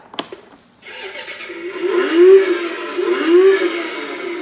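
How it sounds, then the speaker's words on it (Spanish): A toy Audi R8 ride-on car plays an engine start sound effect after a click of the key, a close electronic cranking followed by a wavering, revving motor tone that rises and dips twice. "Cada vez que lo arranquemos suena el sonido de arranque del motor."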